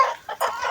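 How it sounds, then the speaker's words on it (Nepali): A black rooster on a Nepali goat farm clucks while pecking at stalks: a few short, close clucks in quick succession, with no other voices. "डाँठ खाएपछि यो काले भाले पनि डाँठ खाइरहेको छ।"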